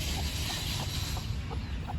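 Faint, irregular clucks from a chicken over a steady low rumble and hiss, a few short calls spread across a couple of seconds.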